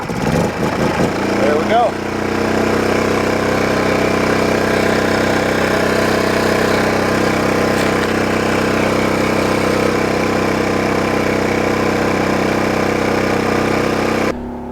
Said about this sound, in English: I did purchase one of the quieter generators. This is supposed to be comparable to a Honda.